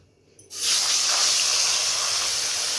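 Fish dropped into hot oil in a wok: after a brief quiet moment a sudden loud burst of sizzling erupts and holds as a steady, close hiss.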